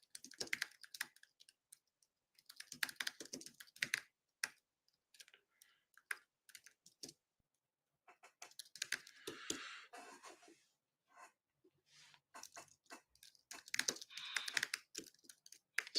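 Bursts of typing on a computer keyboard, quick clattering clicks close to the mic in uneven runs broken by short pauses, fairly quiet throughout.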